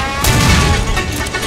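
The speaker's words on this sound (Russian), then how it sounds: "Это был выстрел." Gunfire from the video game Warface, a loud, dense boom with a rolling crash that fills the short moment and stays heavy and continuous to the end.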